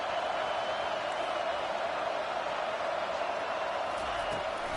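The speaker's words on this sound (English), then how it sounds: "These fans are going absolutely nuts." A large football stadium crowd at a Michigan versus Alabama game roars continuously and loudly, a dense steady wash of cheering with no break.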